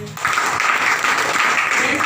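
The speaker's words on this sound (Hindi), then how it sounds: "अपने लिए जबरदस्त ताली बजाइए" An audience at a health seminar claps vigorously, a loud, even burst of applause that swells in and holds steady to the end.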